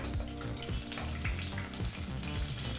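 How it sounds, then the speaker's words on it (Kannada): Cashews and green chillies fry in hot oil for a vegetable pulao, a close, lively crackling sizzle with a tonal backing sound underneath throughout the short stretch. "ಈಗ ಈ ಎಲ್ಲ ಪದಾರ್ಥನೂ ಒಂದು ಮೂವತ್ತು ಸೆಕೆಂಡ್ಗಳ ಕಾಲ ಎಣ್ಣೆಯಲ್ಲಿ ಬೆರೆಸಿ ಬಿಸಿ ಮಾಡ್ಕೋಬೇಕಾಗತ್ತೆ"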